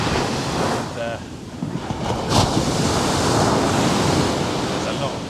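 Sea surf breaking on a beach in Lagos on the Algarve coast, with strong wind buffeting the microphone; a steady, loud wash of broadband noise throughout, with no clear individual wave crashes.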